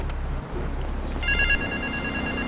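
A telephone rings in the video game GTA 3, a steady electronic trill over a low background hum, one short ring burst.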